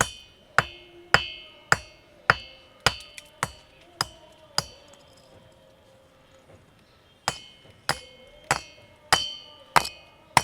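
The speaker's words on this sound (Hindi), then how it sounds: "तीसरे पत्थर से कौन सी आवाज़ आती है और इसमें से कलसे की आवाज़ आती है" A musical stone that rings like a metal kalash pot is struck repeatedly, producing sharp, bright ringing strikes with short resonant tails. The strikes come in a steady series, pause briefly, then resume at a similar pace, close and clear.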